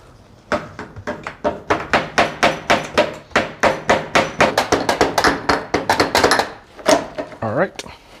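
A rapid, even run of sharp metallic clicks comes from a wrench loosening the bolts on an FZ-09 motorcycle's triple tree. The clicks are close and loud, followed by a short rattling scrape at the end.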